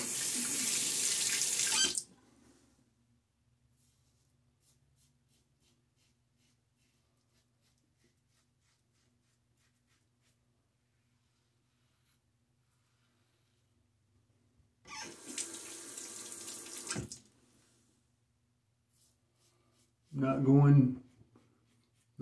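A bathroom tap runs in two short bursts, a couple of seconds each, to rinse a Gillette New Tech Hybrid safety razor, with long quiet gaps between and a brief clink or splash near the end.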